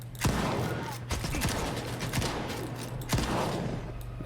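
A RAM-2 shotgun fires slugs in STALKER 2, two sharp shots a few seconds apart over a steady mechanical hum, each followed by action clatter.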